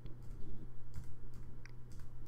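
Brief burst of typing on a Mac computer keyboard, soft irregular key clicks over a steady low electrical hum, close and fairly quiet.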